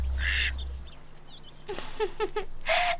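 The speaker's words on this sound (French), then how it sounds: "Qu'est-ce que t'as, petit canard?" A duck quacks several times in quick succession, close and clear, with a brief low rumble and other bird calls around it.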